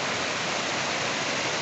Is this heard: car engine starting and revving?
no